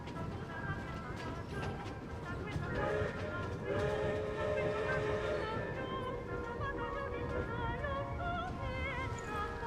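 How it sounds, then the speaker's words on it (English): A train runs in Genshin Impact near a snowy northern city, a steady rumbling ride with tonal whistle-like hums, heard faintly throughout alongside other game sounds. "Stop the train! Stop the train!"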